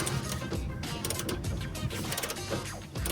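A ratchet turns long-threaded bolts on a 1970-1981 Pontiac Firebird Trans Am, making rapid, close, uneven bursts of metallic clicking.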